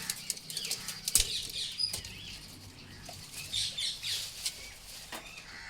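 Pigeons flap their wings around a home-built wooden box, a series of quick, close, soft fluttering bursts along with faint chirps and scattered rustles.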